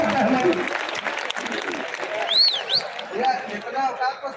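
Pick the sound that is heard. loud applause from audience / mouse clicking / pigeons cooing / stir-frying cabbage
loud applause from audience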